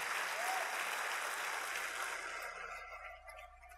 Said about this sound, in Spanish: Dale un fuerte aplauso al Señor Jesucristo